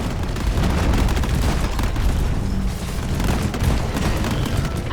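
Grenade blast in the video game Deep Rock Galactic, a loud, sustained boom rolling into continuous rumbling gunfire and battle noise throughout.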